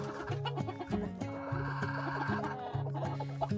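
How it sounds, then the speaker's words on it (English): A blue rooster in a backyard breeding pen clucks in a steady run of harmonic calls, close and clear, with no talking over it. "This handsome boy is Ozzy, and he is a blue rooster, and he is an amazing rooster"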